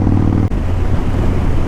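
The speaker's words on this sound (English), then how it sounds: "Ryan's bike sounds pretty nasty with them with that new exhaust on there" A motorcycle fitted with a new aftermarket exhaust rumbles steadily up close, a deep throbbing engine note with wind noise over it and a brief dip partway through.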